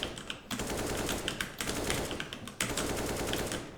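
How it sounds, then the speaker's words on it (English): Wall-bang gunfire on the Inferno map in the video game CS:GO, heard as rapid, steady volleys of shots separated by two short pauses, fairly loud with no talk over it. "You can lure them by wall banging, like this."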